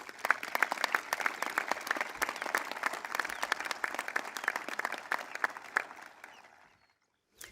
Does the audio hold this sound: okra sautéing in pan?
no